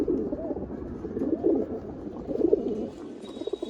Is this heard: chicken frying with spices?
no